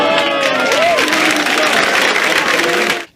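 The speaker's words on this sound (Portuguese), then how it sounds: "O corpo de Tarcísio saiu da capela sob aplausos." Applause and crowd noise from mourners as a coffin leaves a funeral chapel after a plane crash, sustained clapping with voices calling out over it, then cutting off abruptly.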